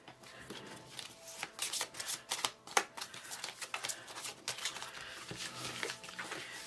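Tarot cards are shuffled by hand in quick, crisp riffles and flicks, steady and close for several seconds, with no talking over them.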